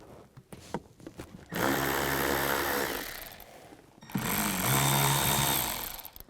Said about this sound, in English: I'm going to use a 7mm socket, remove those 2 screws